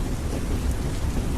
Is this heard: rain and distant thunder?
yes